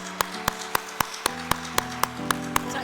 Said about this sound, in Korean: 우리 응원의 마음으로 크게 한번 박수해 주시기